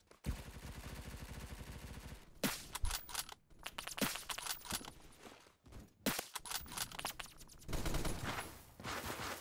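Video game gunfire in Rainbow Six fills the clip with dense, rapid bursts of automatic shots, loud and close, broken by brief silences and a few lone cracks.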